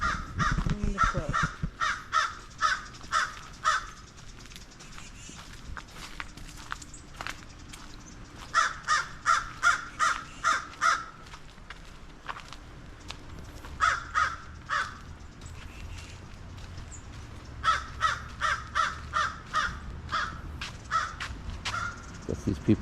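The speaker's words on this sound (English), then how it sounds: "And the crow." A crow caws at a marsh on the South Carolina coast, giving repeated loud, harsh calls in quick runs of several caws separated by pauses, close and clear over quiet outdoor ambience.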